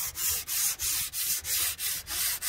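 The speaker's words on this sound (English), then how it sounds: "So that sandpaper that he's using isn't very rough, it's got a little bit of coarseness about" Sandpaper of moderate coarseness scrubs flaky, loose paint off a metal surface in steady back-and-forth strokes, about eight rhythmic rasping passes, close and clear with no talking.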